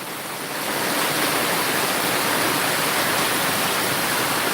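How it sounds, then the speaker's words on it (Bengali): A fierce storm gale blows across rural village land, a loud, unbroken broadband rush that swells in the first second and then holds steady, with no voices. "বাতাসের দৃশ্য গতিবেগ বাড়ছে খুব তুফান শুরু হয়েছে"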